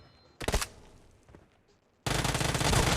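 Gunfire in the shooter game PUBG, with a short burst of shots, a quieter stretch with a few faint pops, then a loud, dense, continuous volley of automatic fire that runs to the end.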